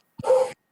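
One dog gives a single short, sharp bark, close and fairly loud, against silence.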